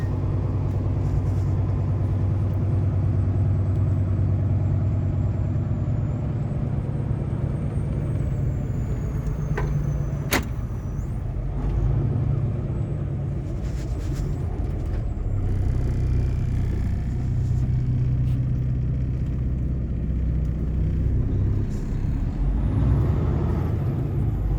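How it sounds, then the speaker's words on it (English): A big truck rumbles steadily through a residential neighborhood, its low engine drone continuous and close, with a sharp air-brake hiss and release partway through and no talking. "Big truck driving through the neighborhood."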